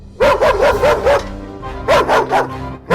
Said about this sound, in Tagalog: Nalaman ito ng aso at agad itong umatake.